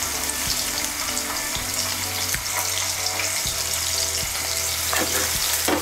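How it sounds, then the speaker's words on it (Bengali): Potatoes seasoned with salt and turmeric fry in hot oil, giving a loud, close, constant sizzle with occasional stirring knocks against the pan and no voices. "দিয়ে আলুগুলোকে আমি ভালো করে ভেজে নেব।"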